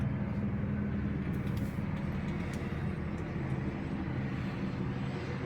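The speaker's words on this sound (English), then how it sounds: "I can hear that helicopter going around in circles." A steady low rotor drone hangs in the air, a distant helicopter circling overhead with a constant rumble and no voices.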